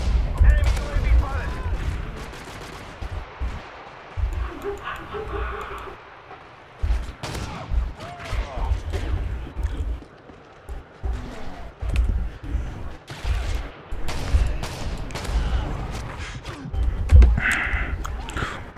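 Gunfire in the video game Modern Warfare 2, heard as repeated short bursts of shots spread through the clip, with loud low thumps and talk mixed in.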